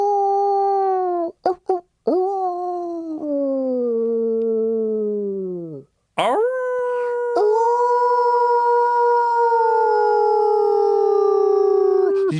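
A man imitates a wolf howl, giving long, loud, close sustained howls with sliding pitch, a short break with a few quick gasps, then a second rising howl that holds steady and fades out.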